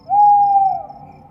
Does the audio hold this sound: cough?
no